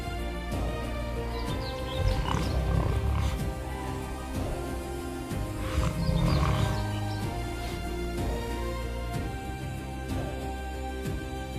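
Jaguar in the wild Chaco of South America giving deep, rumbling roars, two heavier bursts standing out over a low, continuous background of wilderness noise.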